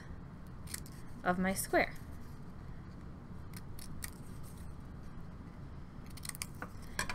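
Scissors snip the corners off a paper square in a few quick crisp cuts, the cuts close by and set against a person talking.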